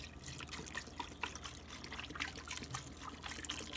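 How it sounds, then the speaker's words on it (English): Chicken broth, about four cups, pours steadily into a pot of beans, a continuous close liquid splashing and trickling with no talk. "So we're going to just go ahead and add the chicken broth."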